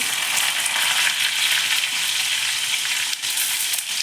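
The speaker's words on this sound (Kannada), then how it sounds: "ಎಣ್ಣೆ ಕಾದ್ಮೇಲೆ ಸಾಸಿವೆ ಹಾಕೋತಾ ಇದ್ದೀನಿ ಕರಿಬೇವಿನ ಸೊಪ್ಪು ಮತ್ತು ಜಜ್ಜಿಕೊಂಡಿರೋ ಬೆಳ್ಳುಳ್ಳಿ" Mustard seeds, curry leaves and crushed garlic fry in hot oil, giving a steady, loud, close sizzle with fine crackling that runs unbroken throughout, with no talking.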